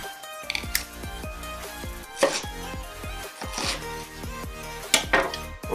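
A knife repeatedly slices and chops through firm pineapple on a board, with sharp irregular strikes and occasional clinks of utensils close by.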